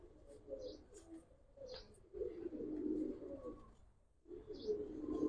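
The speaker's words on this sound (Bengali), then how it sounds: "অনেক সুন্দর কবুতর" Giribaz and coloured pigeons coo in low, rolling phrases close by, quiet overall, with a few faint higher chirps scattered between the coos.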